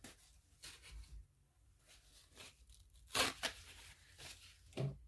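Paper towels handled up close, scrunched and pulled in short, irregular bursts of crinkling and tearing, with quiet pauses between, a couple of sharper rips near the end.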